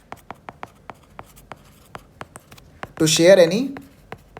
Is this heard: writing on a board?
yes